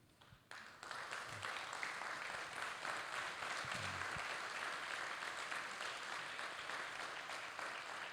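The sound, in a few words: standing audience applause at university ceremony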